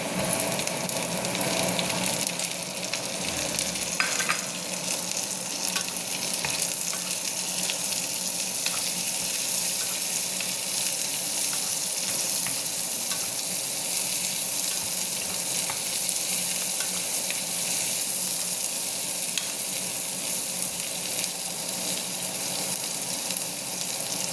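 Garlic and onion fry steadily in a pan for a Filipino pork dish with fish sauce and tomato, a continuous loud sizzle with occasional stirring scrapes, close up with no talking.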